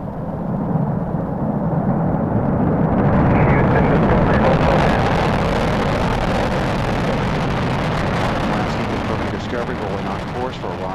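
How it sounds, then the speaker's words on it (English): Space Shuttle Discovery's boosters ignite at night at Kennedy Space Center, a loud, continuous rumbling roar that swells within seconds and holds steady, with a commentator talking over it. "We have booster ignition and liftoff of the Space Shuttle Discovery lighting up the nighttime sky"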